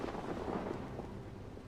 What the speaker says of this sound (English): We have lightning.